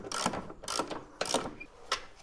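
A ratcheting wrench works a suspension nut loose on a 1993 Mazda MX-5, giving four quick, close clicking strokes at an even rhythm, fairly quiet.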